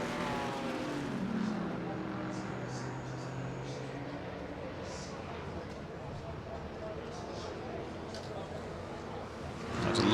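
Race cars lapping the Goodwood Revival circuit, a steady engine drone with rising and falling tones under continuous commentary, swelling louder as a car approaches at the end.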